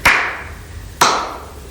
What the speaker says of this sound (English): We've got 2 ladybirds, so we need to clap twice.